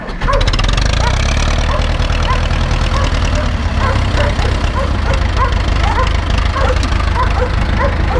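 An Ursus tractor engine idles loud and close, starting abruptly and then running in a steady, rough, rhythmic chug with strong low rumble throughout.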